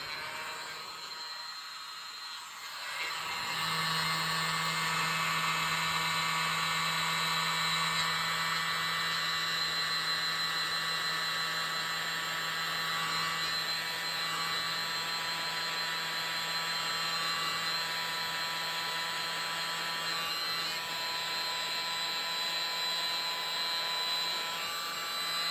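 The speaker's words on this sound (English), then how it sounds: "blower again" Electric air blower running over paint-pour coasters: a steady loud whirring roar with a high whine that starts after a quiet moment and holds evenly for the rest of the time, close by.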